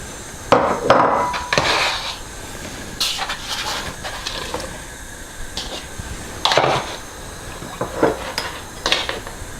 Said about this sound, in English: you can add all of the veg.